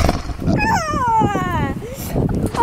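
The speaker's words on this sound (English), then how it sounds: "It looks like a puppy dog!" A cartoon puppy dog in the Legend of Sonic and Link video game gives a rising and falling whimpering whine, mixed with game sounds and talk.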